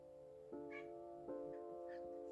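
A pet cat meows twice in a quiet room, two short mid-pitched calls a beat apart, fairly close and alone with no talking.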